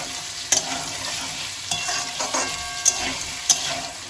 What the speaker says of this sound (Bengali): পেঁয়াজের সাথেই আমি এই বিনস কুচিটাও দিয়ে দিচ্ছি এবার আবার দু মিনিট মতো এগুলোকে একটু ভেজে নেব